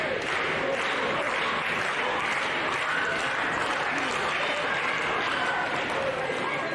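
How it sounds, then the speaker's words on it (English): Wrestling crowd at a PCW TV event cheering for Kashiro during his debut, a steady dense roar of cheers and applause filling the whole stretch without pause, with commentary voices running underneath. "You can hear the crowd really taking Kashiro to their hearts in this is PCW TV debut."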